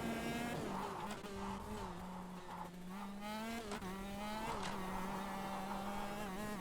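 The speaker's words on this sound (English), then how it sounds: "Oh, sliding around the last corner." Shifter kart on the Genk circuit in KartKraft races with a buzzing, rising and falling engine note while the tires squeal and slide through a corner, loud and continuous throughout.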